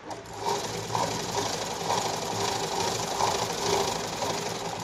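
A sewing machine stitches a 32-size katori blouse in a rapid, steady mechanical whir with rhythmic pulsing, running close and continuous from just after the start.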